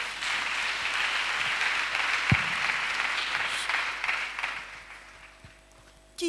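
A church congregation at a Friday night prayer vigil in Abidjan applauding, a dense, steady clapping that swells, then gradually thins and fades toward the end.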